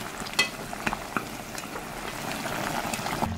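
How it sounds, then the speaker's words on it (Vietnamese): Pork ribs bubble and sizzle in coconut water in a pot over medium-low heat, a steady close simmering hiss with occasional pops and stirring taps, no voices. "Và mình rim thịt trên lửa trung bình nhỏ cho đến khi nào lượng nước cạn sệt lại vừa đủ nha"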